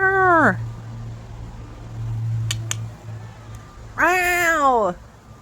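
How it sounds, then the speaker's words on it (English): Two falling, drawn-out cat meows, one at the very start and a louder, longer one near the end. A steady low hum and faint clicks fill the quiet gap between them. "Meow!"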